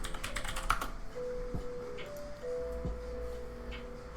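Keystrokes tapping on a computer keyboard while entering a search term, a quick close burst of clicks early on, then a few scattered presses over a faint steady background hum.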